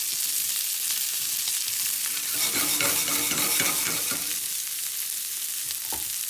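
Butter melting and starting to brown in a pan, giving a steady close sizzle and bubbling hiss with a few light utensil scrapes, loud and continuous without any talk.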